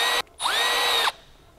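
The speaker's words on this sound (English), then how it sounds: "now it's time to get the drill" A power drill for an off-road snorkel install on a 2022-or-later Nissan Frontier whirs up briefly, stops, then spins again with a rising whine for under a second before cutting off.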